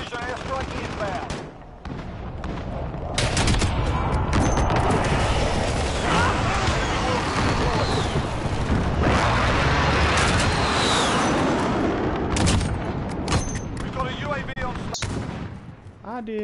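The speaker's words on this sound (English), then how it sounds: "Be advised, friendly position airstrike inbound." Airstrike explosions and rapid gunfire in a first-person shooter game, with heavy rolling blasts and bursts of automatic fire running almost continuously, while players talk over the action.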